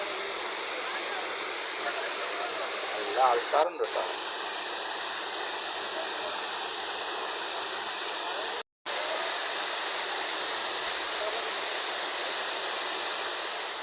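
Steady rushing water of the Kappimala waterfall in Kannur, Kerala, fills the whole clip, broad and constant, with a brief spoken remark partway through.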